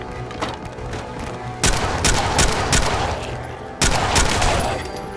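Tactical pistol from a Creation Club item firing in Fallout 4: sharp, loud gunshot bursts cracking repeatedly, with two especially heavy volleys standing out over a busy combat backdrop.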